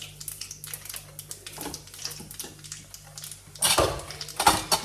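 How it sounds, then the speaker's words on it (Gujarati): Mustard seeds crackling and popping in about four spoons of hot oil in a pan, a busy sizzle of small crisp pops that swells louder near the end, with some clinks of utensils mixed in. "ઓઇલ થઈ જવા આવે રાઈ નાખી દીધી છે, તેલ થઈ ગયું"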